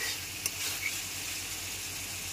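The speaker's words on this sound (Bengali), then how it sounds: "পটলগুলো দেওয়ার পর 5 থেকে 7 মিনিট রান্না হতে দেব।" Pointed gourd (potol) for dahi potol cooks in a pan, giving a steady, even close sizzle with a couple of faint clicks and no speech.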